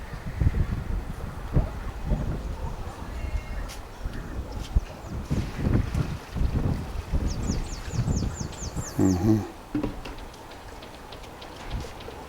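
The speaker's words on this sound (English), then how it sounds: "I could feel the wind right here on me." Gusty wind buffets the microphone atop a wind turbine tower, rumbling in uneven surges and lulls at close range, with brief chirping and rattling sounds mixed in toward the end.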